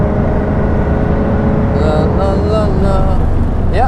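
Jaguar F-Type engine droning on the Nürburgring, heard from inside the car as a steady loud hum with rising and falling tones while the car carries speed through corners.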